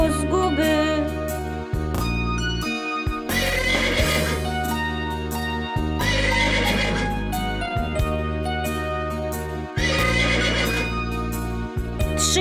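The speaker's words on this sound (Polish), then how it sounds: "Trzykroć zarżał pod oknem koń wrony." A black horse's neighing, used as a sound effect in a puppet theatre show about the Wawel dragon, rises within loud, continuous orchestral music that plays throughout.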